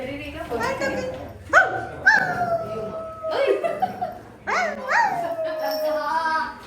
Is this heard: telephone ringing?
no